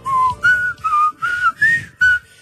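A clear whistled melody of about six sustained notes, slow and eerie, whistled close by with a breathy edge and no speech.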